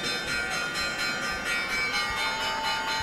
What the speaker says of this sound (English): Now that is the New York Stock Exchange opening bell.